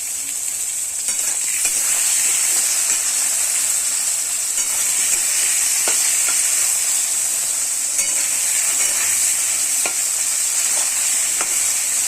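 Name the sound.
eggplant frying in oil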